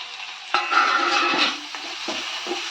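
Masala spices sautéing over low heat in a pan for a restaurant-style mutton gravy, a steady close sizzle with a few sharp stirring scrapes and clinks against the pan, no talk.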